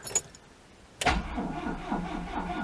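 An old car's engine cranks and catches after choke is applied, with the choke cable only partly attached at the dashboard. A faint rattle comes first, then a sudden loud start settling into a rough, uneven idle.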